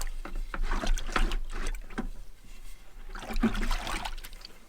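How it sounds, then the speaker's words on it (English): Water from fermented chicken feed gurgles and trickles as it drains slowly through a hose, with uneven sloshing surges, heard close up and with no one talking. "let it sit here and take its time to drain"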